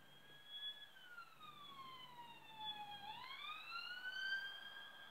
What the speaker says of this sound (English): Let me just wait for this ambulance to go past.